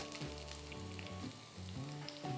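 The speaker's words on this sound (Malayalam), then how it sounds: "ചൂടായ എണ്ണയിലേക്ക് ഒരു വലിയ സവോള സ്ലൈസ് ചെയ്തത്" One large sliced onion fries in hot oil for a chicken kurma, making a quiet, steady sizzle, with a faint background hum and some stirring near the end.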